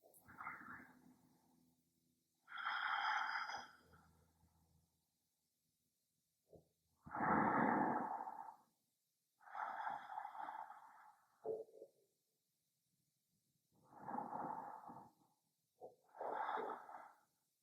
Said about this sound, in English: Feel yourself breathing all the way into this area of the belly.